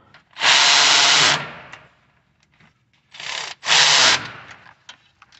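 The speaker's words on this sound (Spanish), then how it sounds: "Ya que alinearon los tornillos, entonces vamos a apretarlos." A power tool tightens the passenger-side engine mount bolts on a 2010 Chevy Tahoe, with one long, close whirring burst followed by two shorter bursts and some faint clicks between.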